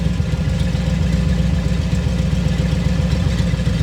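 A carbureted-style engine fitted with an EFI unit runs at a steady idle, a loud, even low rumble with a constant throb that does not change throughout.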